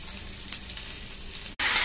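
Cumin, urad dal, onion, green chilli and curry leaves fry in hot oil for a green tomato dal, giving a steady, close sizzling hiss that cuts out briefly and then returns louder, with no talking.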